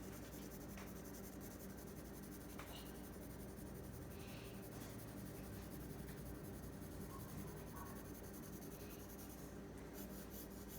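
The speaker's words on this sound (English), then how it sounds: "So I'm just going to color lightly with my black colored pencil." Soft, continuous scratchy rubbing of a black colored pencil shading lightly on paper, faint and close, with no talk.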